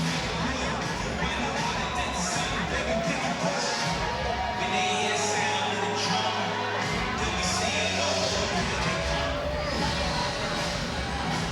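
Stadium crowd before a USA versus Belgium women's soccer match in 2019, a steady roar of cheering and shouting from a large audience that carries on without a break, with voices mixed into the din.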